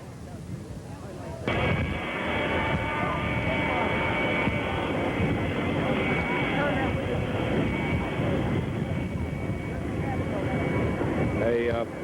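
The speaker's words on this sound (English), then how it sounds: "Now Air Force number 1 taxiing in." Air Force One, the presidential plane, taxiing in on an airport apron: a broad, steady engine roar starts suddenly and then holds loud and continuous, with no clear talk over it.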